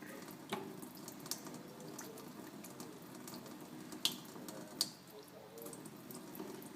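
Water is emptied from an e-cigarette tank while rinsing it, a soft, close trickle and splash with a few sharp drips and taps, fairly quiet.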